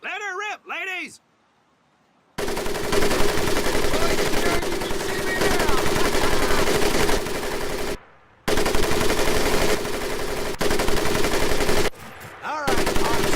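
Weapon fire on a training range in Medal of Honor Pacific Assault: a brief voice, a pause, then long loud sustained bursts of machine-gun fire broken by short gaps, with more speech near the end.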